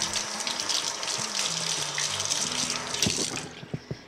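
Water runs steadily from a tap as a slimy filter housing O-ring from a Multi-Pure filter system is rinsed, a continuous close splashing gush that ends with a few drips and knocks.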